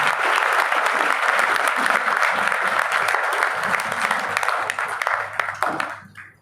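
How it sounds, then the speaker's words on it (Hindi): A church congregation at an Easter service gives loud, dense applause that runs steadily for several seconds and then tapers off quickly at the end. "जोरदार तालियां खुदा को।"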